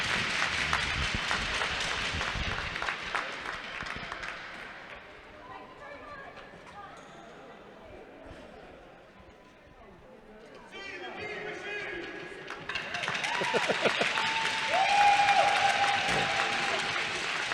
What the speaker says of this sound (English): both teams applauding Zoe Davis.